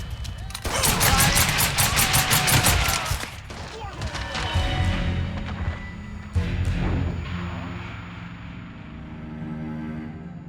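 Rapid bursts of video-game gunfire from Mafia III crackle loudly up close, a dense volley followed by scattered single shots and thuds, with shouted voices mixed in.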